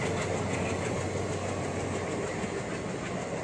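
A train rumbling past close by, a loud, steady roar of wheels and carriages filling the whole stretch without pause.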